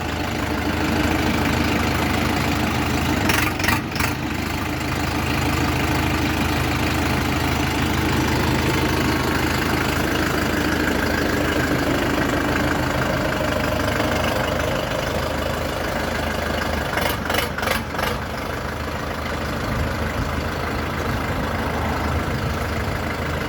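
A heavy diesel engine of an Orion RF504RC PRO tractor idles steadily and loudly throughout, with a constant low rumble and a couple of brief rattling bursts.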